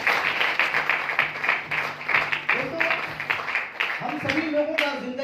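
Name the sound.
audience applause welcoming people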